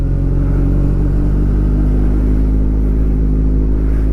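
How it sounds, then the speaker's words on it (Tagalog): A Kawasaki ZX14R motorcycle being ridden through city streets, its engine holding a loud, close, steady drone with a rich low rumble for the whole stretch, with no voices. "ang ganda na motor."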